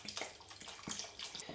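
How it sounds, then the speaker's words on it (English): Cold water, about 1.5 litres, pours steadily into a cooking pot of seasoned risotto ingredients, a close, splashing gush with uneven surges and drips. "I'm now covering everything with some cold water"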